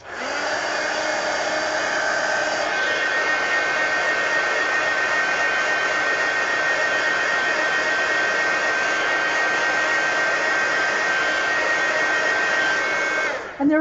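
A hair dryer blows on a page being coloured, a loud continuous whir that runs unbroken for over ten seconds, steady in tone, then clicks off at the end.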